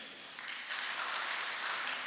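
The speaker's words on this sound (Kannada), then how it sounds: "ಯಾರು ಕೈ ಎತ್ತಲಿಲ್ಲ ಅಂದ್ರೆ ಒಮ್ಮೆ ಜೋರು ಚಪ್ಪಾಳೆ ಕೊಡಿ" Audience clapping at a motivational speech, faint and distant at first, then swelling to a steady, soft patter of applause from a fairly small crowd.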